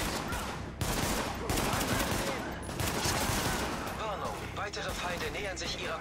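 Gunfire from the shooter game Tom Clancy's The Division, dense bursts of shots and impacts with continuous battle noise throughout, while someone talks over the action.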